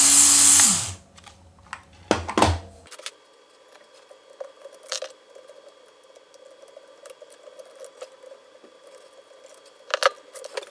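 Small bolts being loosened and removed from a Micro Steel World RC Bobcat bucket, with light metallic ticks and clicks of a small tool, a loud burst of handling noise at the start, then quiet intermittent tapping.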